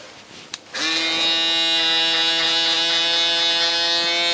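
An electric shaver switches on and buzzes steadily at close range while trimming hair for a low fade, a bright even hum after a brief click.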